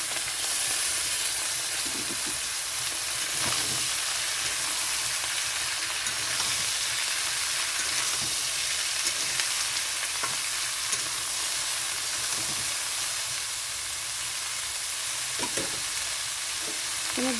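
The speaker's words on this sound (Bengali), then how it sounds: "তো এখানে দিয়ে দিচ্ছি মূলো আলু।" Radish and potatoes fry with prawns in mustard oil, giving a steady broadband sizzle throughout with occasional stirring scrapes and no talk.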